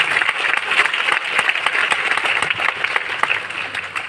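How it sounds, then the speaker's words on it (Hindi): A crowd at a business success-story gathering claps enthusiastically, a steady, fairly loud patter of many hands with slightly uneven, fluttering density throughout. "अगर आपको कम लगे तो ताली कम बजाना, अगर ज्यादा लगे तो ताली ज्यादा बजाना।"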